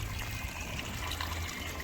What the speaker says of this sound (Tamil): தண்ணியெல்லாம் பாருங்கள் இவ்வளோ அழகாக வெளியே போகுது